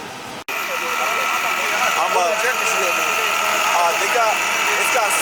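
Close by, a Volkswagen GTI car engine rumbles at a steady idle, broken by a brief dropout near the start, with voices talking over it.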